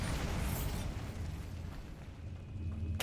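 Bombarda blasting spell from the video game Hogwarts Legacy: a fairly quiet, rumbling explosion burst that fades over a few seconds, followed by a brief sharp crackle at the end.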